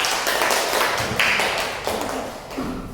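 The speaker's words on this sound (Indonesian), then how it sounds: "tepuk tangan untuk kelompok 2" Classroom applause for a student group, a short bout of clapping with scattered taps and thuds, fairly close and loud, fading toward the end.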